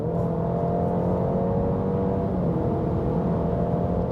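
A 2023 Alfa Romeo Giulia facelift accelerates hard, its engine a steady, loud drone that climbs gradually in pitch, heard from inside the cabin with no voices.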